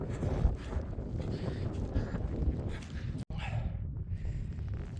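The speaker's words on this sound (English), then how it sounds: "I just need this wind to drop as well" Strong wind buffets the microphone on open moorland in the North Pennines, a steady rumbling roar throughout that drops out for a split second near the end.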